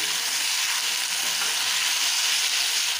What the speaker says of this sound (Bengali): এখন এটাকে একটু ভালো করে ভেজে নেব।